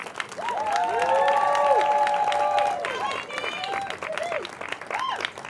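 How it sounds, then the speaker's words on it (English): A room of people claps and lets out rising whoops and cheers to welcome the 2018 New Jersey Teacher of the Year, an American Sign Language and deaf-education teacher, onto the stage. The applause swells, then fades into scattered cheering. "So just go ahead and give her a huge round of applause."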